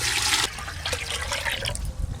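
Water pours into a cooking pot for carrot rice, a splashing rush at first that thins to a trickling, dribbling flow.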